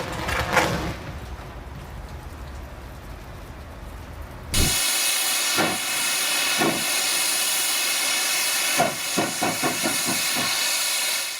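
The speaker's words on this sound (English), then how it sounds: "Near the end of steam at Sandaoling, JS8225 clawed its way out of the coal pit under a brutal load" Chinese JS8225 steam locomotive hauling a brutal load up out of the Sandaoling coal pit, heard from close by as a steady hiss of steam with loud, irregular exhaust chuffs that grow denser toward the end.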